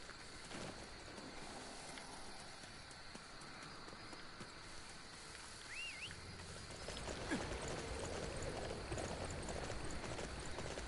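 Horse hooves galloping in the video game Dynasty Warriors 9, a fast continuous clip-clop rhythm under game ambience, moderately quiet, with a brief whinny-like cry in the middle.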